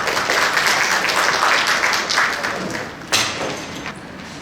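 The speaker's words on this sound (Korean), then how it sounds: "큰 박수로 부탁드립니다." Audience applause at an academic safety culture conference in Korea, a dense steady wash of clapping that fades slightly toward the end with a brief swell near the close.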